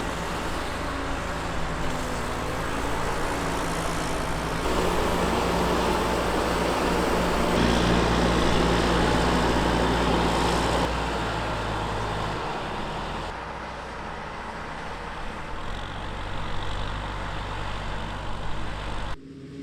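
A Fendt 924 tractor pulling a Strautmann forage wagon works a grass silage field, its steady engine drone loud and close with a continuous mechanical rumble that swells midway and eases slightly toward the end.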